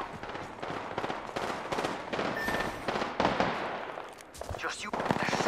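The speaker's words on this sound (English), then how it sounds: "They're shooting at me." Gunfire in the video game Apex Legends: rapid automatic bursts and shots crackling steadily at close range, with a few brief gaps, mixed with other game effects.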